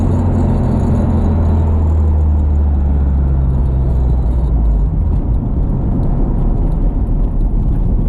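Honda Civic with an H2B engine swap, running lean after a blown seal, idling unsteadily with a steady close low rumble and whir that shifts slightly partway through.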